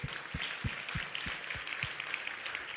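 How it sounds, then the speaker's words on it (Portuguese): A church congregation applauds, giving faint, fairly distant steady clapping, evenly rhythmic, with no voice on top. "Vamos aplaudir o Senhor."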